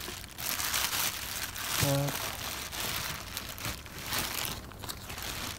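A parcel holding a replacement car airbag for a Renault Clio 2 is unwrapped, giving a continuous crinkling and rustling of packaging up close. A brief tonal clunk sounds partway through.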